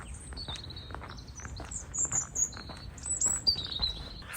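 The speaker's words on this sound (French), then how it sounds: "Vous entendez les oiseaux?" Small birds chirp and tweet in short, high bursts nearby, over a quiet outdoor background with faint rustling steps.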